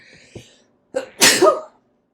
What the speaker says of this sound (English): a little sneezy sneeze